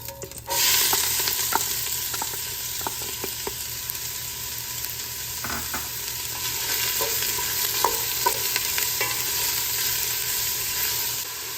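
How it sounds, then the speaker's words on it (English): Onions sweating in olive oil in a pan, a steady close sizzle with scattered clicks and scrapes of stirring, alone without voices. "we're just gonna sweat these onions for just about a minute"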